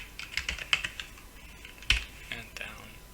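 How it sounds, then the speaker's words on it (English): Arrow keys tapped on a computer keyboard while working in animation software, a scattered run of light clicks at close range, some louder than others, with no talking. "pressing the arrow keys on the keyboard to go down the chain from parent to children"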